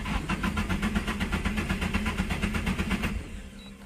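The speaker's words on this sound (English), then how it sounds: "I'll crank it over for about 5 seconds." Nissan 240SX SR20DET engine cranking over on the starter without firing, a fast rhythmic chugging pulse held for about three seconds before cutting off, close and alone.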